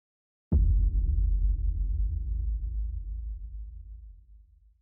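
A deep low boom hits suddenly after a short silence, then rumbles and decays steadily over several seconds, heard alone.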